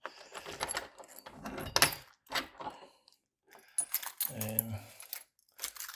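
Metal keys jingle and scrape in bursts while someone fumbles with a door lock, close to the listener, mixed with handling noise and brief bits of speech.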